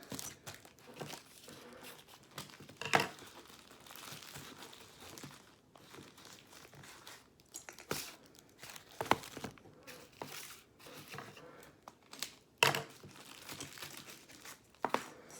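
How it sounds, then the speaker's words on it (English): Plastic egg packages being cut open, soft crinkling and crackling of thin plastic with scattered sharp snips and crunches, close and intermittent at low volume. "I'm going to cut out of these packages the blue eggs"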